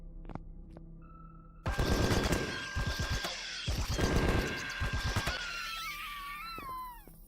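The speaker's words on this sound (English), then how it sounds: "The satisfying thud thud of bullets hitting flesh, or in this case, exoskeleton." Gunfire from the Empyrion Galactic Survival game, with bullets hitting an alien creature's exoskeleton: loud bursts of rapid shots in two clusters, followed by fading wailing sci-fi tones and sweeping whistles.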